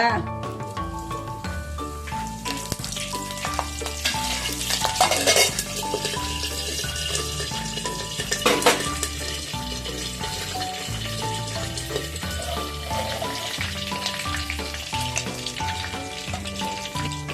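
Mustard seeds, cumin and curry leaves sizzling in hot oil as a tempering, a continuous bright crackle with occasional louder bursts and faint clinks of a utensil against the pan.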